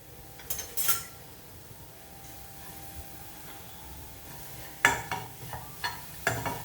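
Onions fry gently in a pan for a tuna dish, a soft low sizzle broken by a few sharp scrapes and clinks of a spoon stirring against the pan.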